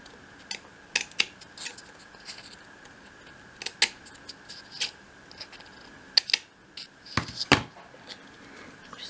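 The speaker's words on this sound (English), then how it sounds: "take your scissors and just snip down the corners like that." Small scissors snip down the corners of a 1/12th scale dollhouse craft basket, a scattering of quiet, crisp cuts in short irregular bursts against a faint steady hum, close and soft.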